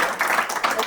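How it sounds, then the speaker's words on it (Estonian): Brief burst of audience clapping for Lauri at a school world café event, a short patter of hands under a soft murmur of voices. "Nii, teeme ühe aplausi veel Laurile."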